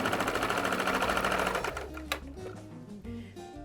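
A sewing machine stitches a patchwork bias strip at a quarter-inch seam, running in a fast, steady whir for about a second and a half, then slowing into a few separate stitches and soft handling clicks.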